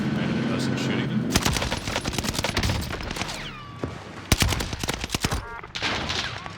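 Rapid bursts of gunfire and machine-gun fire in Call of Duty, with sharp close shots and clattering volleys spread across the clip and loud peaks in the middle and late sections.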